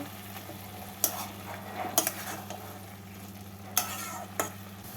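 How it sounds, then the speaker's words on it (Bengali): Cabbage fries with poppy seed paste in a pan, a soft steady sizzle under four distinct scrapes as the mixture is stirred and turned at irregular intervals. "পোস্ত বাটার সাথে বাঁধাকপিটাকে ভালোভাবে মিশিয়ে নিয়ে দু মিনিট মতো ভেজে নেব"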